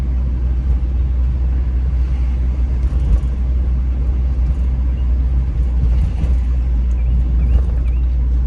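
A car rolls slowly along a Philadelphia city street at about 16 miles an hour, its steady low road rumble and engine hum continuous and close, with a few faint traffic noises above it.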